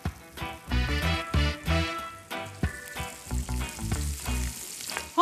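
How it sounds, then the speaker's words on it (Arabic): Asparagus spears stirred and frying in a hot pan, a steady close sizzle with repeated soft scraping strokes of the stirring utensil throughout. "هون عم نخلط احنا حبات الاسبرج"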